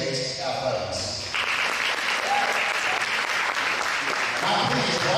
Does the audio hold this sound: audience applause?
yes